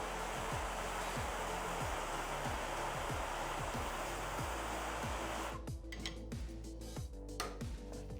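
A heat gun blows a steady, loud, broadband hiss of hot air onto a part during shock absorber repair, running continuously and then shifting slightly in tone for the last few seconds.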